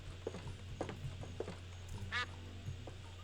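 A duck quacks repeatedly in the video game Escape from Monkey Island, several short quacks at an uneven rhythm over a low steady game hum, with one louder, drawn-out quack near the end.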